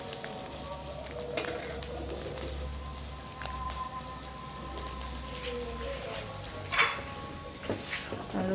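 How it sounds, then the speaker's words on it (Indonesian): Chicken satay pieces stirred in a hot pan with sweet soy sauce, a continuous close sizzle and frying crackle with scattered scraping strokes of the utensil and a low hum beneath. "Lalu kita aduk."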